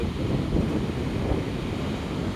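Sea waves break and wash along the shore in a steady, loud roar of surf, with wind buffeting the microphone throughout.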